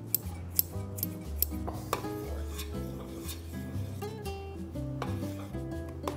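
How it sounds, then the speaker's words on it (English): Scissors snip fresh basil leaves for pasta sauce in a close, quiet kitchen, with repeated crisp cuts and soft rubbing of leaves between them, and no talking. "you're gonna wanna cut it with scissors"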